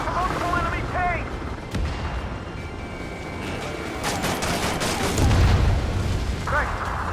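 Artillery fire in the combat game Ace Combat 7: rolling booms and dense bursts of gunfire layered together, loud and continuous, with radio-style voices talking over the battle.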